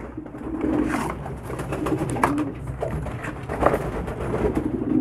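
Pigeons coo repeatedly at close range in a bathing and water setting, soft throaty calls recurring throughout over low background rumble.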